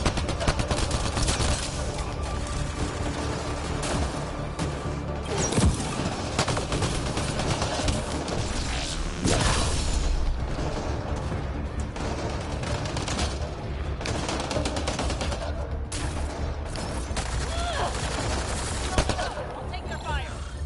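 Sustained gunfire in the video game Mass Effect Andromeda, with continuous rattling automatic bursts and occasional heavier booms, loud and dense throughout, and voices calling out beneath it.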